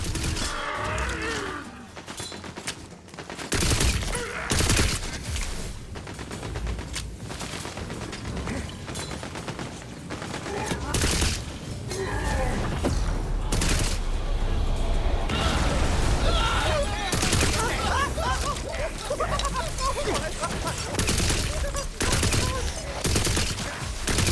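Arcane device in Tiny Tina's Wonderlands, supercharged with Dispel energy, firing in a loud sustained barrage of booming blasts and mechanical clatter, dense and continuous throughout, with a voice briefly talking over it.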